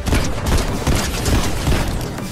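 Dense, rumbling bursts of rapid gunfire with heavy booming blasts in Fortnite, continuous and fairly loud throughout.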